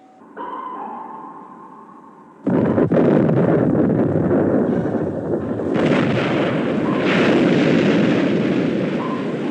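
Depth charges detonate underwater in a 1957 war film about a destroyer hunting a submarine: a quiet, murmuring opening gives way at about two seconds to a sudden, loud, deep blast whose roar rolls on unbroken to the end.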